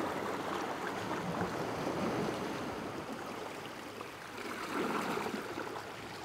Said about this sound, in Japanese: 波がよく当たってて